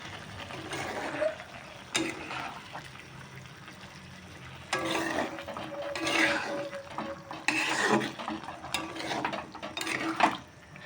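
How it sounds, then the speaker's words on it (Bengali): Pumpkin, potato and Malabar spinach greens being stirred in a cooking pot, with scraping and clinking bursts that come and go and grow busier in the second half, with no talking. "আবারও ভালো করে নাড়িয়ে ছাড়িয়ে নিচ্ছি সবজিটাকে"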